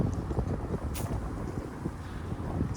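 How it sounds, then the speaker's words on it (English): Wind buffets an iPhone microphone while walking outdoors, making a constant low rumbling roar with uneven gusty fluctuations. "Apologize if there's any muffling now. It is a bit windy."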